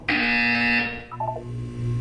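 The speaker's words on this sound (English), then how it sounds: "When you hear the buzzer, look down at the floor" A Portal 2 buzzer sounds loud and steady for about a second, then cuts to a lower pulsing electronic tone, with no talking.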